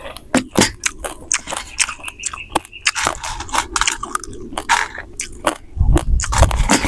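Someone eats fried corn on the cob close to the mic, with sharp crunchy bites and chewing in an irregular rhythm and a louder rustle near the end, no talking.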